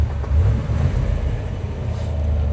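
A 1957 Chevy Bel Air with a 283 V8 idles steadily, a low, even engine rumble with a slight uneven lope, close and alone.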